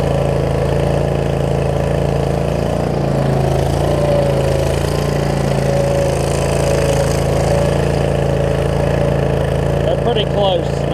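Troy Bilt Mustang zero turn mower engine running at full throttle, a loud, steady droning roar filling the whole stretch with a faint rise in pitch, a voice speaking briefly over it.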